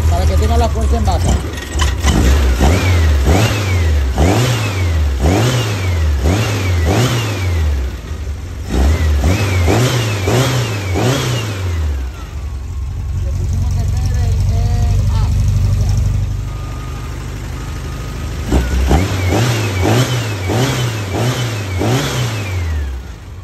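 Volkswagen Beetle (Vocho) engine cranked to life and revved repeatedly in rising and falling bursts, a long steady idle in the middle, then more sharp revs near the end; loud and close, with a voice talking over parts of it.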